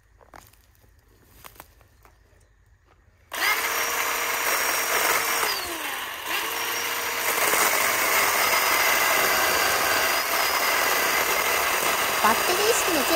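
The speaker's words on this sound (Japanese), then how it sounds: "バッテリー式のチェーンソーはエンジン式に比べパワーが小さい。" A battery-powered chainsaw starts after about three seconds of near silence and then runs at a steady, loud, continuous whine until the end, used while building a wood-splitting block.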